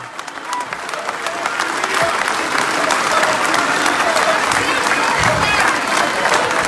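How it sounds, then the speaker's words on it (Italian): A crowd in a town square in Terni applauds the mayor, the clapping swelling quickly into a dense, sustained roar with some cheering mixed in and a voice over a loudspeaker partly audible. "E al sindaco, fate un applauso al sindaco!"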